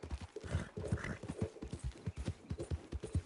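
Horse hooves clip-clopping at a steady trot in Red Dead Redemption 2, a quick even rhythm of close, loud hoofbeats on the ground throughout.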